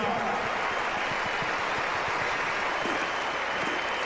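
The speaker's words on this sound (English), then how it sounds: "Let's hear it for Andy Roddick. Congratulations. And congratulations to you, crowd, tonight." Tennis crowd at the Australian Open 2003 applauding Andy Roddick after a quarterfinal match, a sustained wash of clapping and cheering from a large arena audience, loud and continuous.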